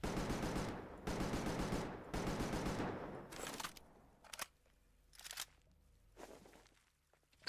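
AK rifle fire in a video game: loud, rapid automatic bursts up close, followed by several shorter, quieter bursts separated by pauses.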